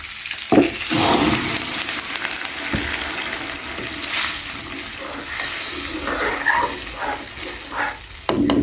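Cumin seeds frying in a pan on a home kitchen stove, giving a steady, fairly loud sizzle throughout, with a few sharp clinks and scrapes of stirring and no talk.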